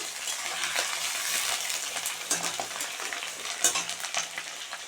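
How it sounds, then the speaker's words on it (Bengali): Potatoes frying in a pan for mudi ghonto, a steady broadband sizzle with light clinks and stirring scrapes, close and continuous with no talk. "আলুগুলো দিয়ে দিলাম"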